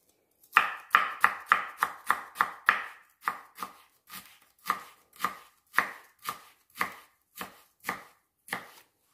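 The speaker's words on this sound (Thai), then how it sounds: "ขิงนี่ห้ามพลาดเลยเนาะ เราจะหั่นฝอยเล็กๆค่ะ ฝอยมากๆเลย เล็กมากๆ" A knife finely shreds ginger on a cutting board, about twenty sharp, close chops in a steady rhythm that starts quick and gradually slows and spaces out, with no talking.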